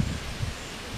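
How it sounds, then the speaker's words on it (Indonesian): Strong wind gusts through trees, a broad, rushing roar with low buffeting surges, brief and fairly loud, with no voices. "Ini angin besar banget sampai ngerusak tuh sebuah kaca genteng bolong situ."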